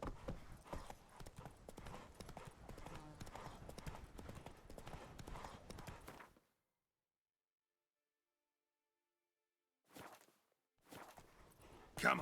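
Roach, the horse in The Witcher 3 video game, walks with steady clip-clop hoofbeats for about six seconds, then goes silent before a few more brief hoof sounds return near the end.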